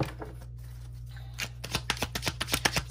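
Tarot cards being shuffled by hand, a soft rustle at first, then a quick run of sharp riffling snaps and flutters in steady succession, close and clear with no talking.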